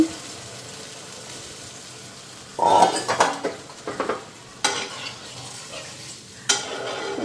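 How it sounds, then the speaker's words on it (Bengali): Broth poured into fried spices in a pan for a prawn curry, sizzling and bubbling with clinks of a stirring utensil against the pan, loud bursts after a quiet start. "তো এদিকে মশলা ফ্রাই হয়ে গেছে, এখন ঝোল দিয়ে দিলাম।"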